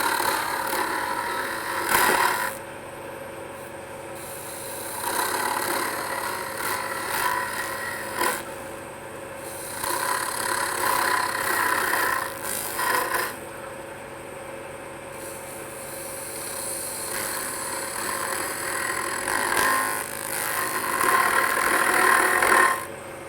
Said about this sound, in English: Let's go ahead and speed the lathe back up. And this time I'll just take the skew.